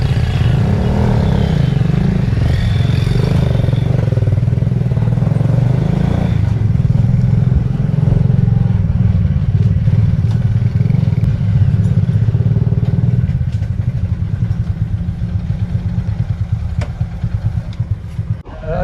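A motorcycle engine runs close by, a steady rough chugging drone with clattering texture that eases slightly toward the end, with no talk over it.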